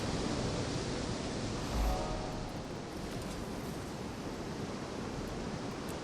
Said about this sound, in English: I think there's a waterfall cave.